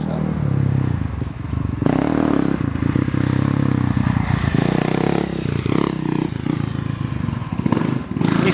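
Dirt bike ridden on a motocross track in Tennessee, a steady buzzing engine with rough scraping and clattering throughout, fairly loud and continuous, with no clear talking.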